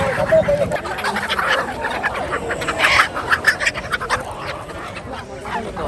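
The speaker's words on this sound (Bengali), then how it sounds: "মাইমেসিংয়ের সবচাইতে বড় হাঁস মুরগির হাট এটা" Ducks and chickens clamour at a large roadside poultry market in Haluaghat, Mymensingh, with scattered quacks and clucks over a busy crowd murmur and voices talking throughout.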